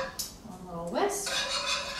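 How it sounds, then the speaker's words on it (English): A small whisk beating strained melted butter with herbs in a bowl, a brief rapid swishing and tapping against the sides, close and fairly clear. "One little whisk."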